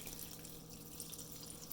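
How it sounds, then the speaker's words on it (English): Filtered water runs steadily into a pressure cooker pot for making vegetable broth from food scraps, a continuous close splashing pour with no talk. "I'm going to add the water."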